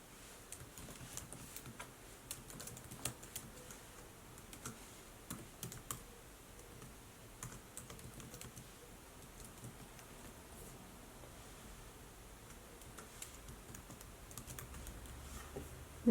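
An email address typed on a computer keyboard: faint, irregular key taps spread across a long stretch, close and soft over a quiet background hiss, with no talking.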